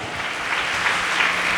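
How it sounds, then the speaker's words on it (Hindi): A church congregation at a Sunday service in Kolkata claps steadily together, a dense, even wash of applause holding at the same level from start to finish. "तालियां बजा के हम परमेश्वर को धन्यवाद दें।"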